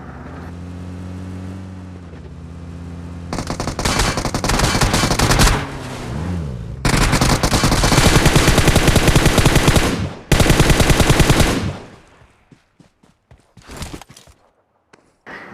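Gunfire in the mobile battle-royale game PUBG Mobile, with loud sustained bursts of automatic fire that cut out sharply and resume, layered over a vehicle engine, then trailing into a few scattered faint shots.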